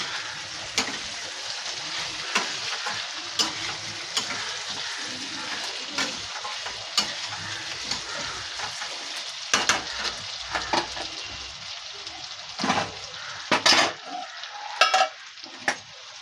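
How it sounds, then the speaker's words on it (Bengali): Rice with masala is stir-fried in a pot with a splash of hot water, giving a steady sizzle under frequent clicks and scrapes of a spoon against the pot that grow sharper and louder toward the end. "কিছুটা জল দিয়ে কষাচ্ছিলাম আমি।"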